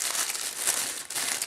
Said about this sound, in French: À l'intérieur, vous avez un petit papier de soie noir.